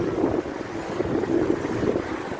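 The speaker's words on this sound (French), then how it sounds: "Ah, le vent, là on ressent encore le vent." Wind blowing outdoors, a low rumbling buffet against the microphone that rises and falls steadily throughout.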